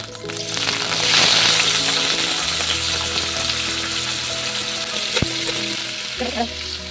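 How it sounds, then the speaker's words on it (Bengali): Cauliflower florets and potato pieces fry in hot oil in a pan, a loud, dense, continuous sizzle that swells early then holds steady, with a brief utensil tap near the end. "এবার এইগুলোকে আমি ভেজে নেব।"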